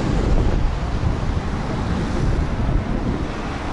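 Water pours steadily from the Forgotten Streams fountain, a cast bronze and granite piece in the City of London, making a continuous broadband rush that holds even and fairly loud throughout with no voices.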